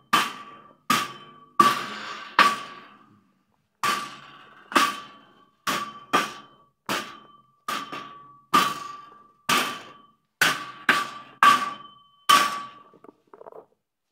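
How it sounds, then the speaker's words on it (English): A hammer strikes repeatedly while a shelf is secured, about fifteen sharp ringing blows in uneven groups with brief pauses between them, loud and close, with no voices. "Hammer time."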